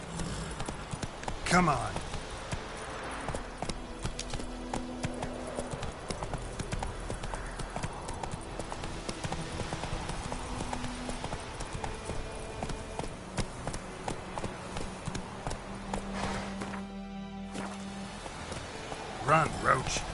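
The horse Roach gallops in The Witcher, a fast, steady clip-clop of hooves on the ground that runs the whole way, with a voice urging the horse on over it.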